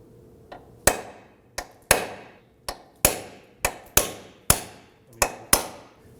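Hammer striking the center of a reused bolt on a 2008-2011 Ford Focus front lower control arm during ball joint replacement; about a dozen sharp, ringing metallic blows at an uneven pace, close and loud, with no talking.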